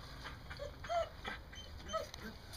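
A dog in a herding session with a sheep flock gives a few soft whimpers and yips, quiet and spaced apart against faint background noise, with no talking.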